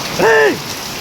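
Heavy typhoon rain pours down in a steady, close hiss, with a brief rising and falling tonal sweep over it near the start.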